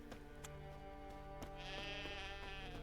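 Sheep bleating in The Witcher 3 while a herder drives a ewe across Skellige; several wavering bleats repeat close by, with one louder, longer cry toward the end over steady ambient game sound.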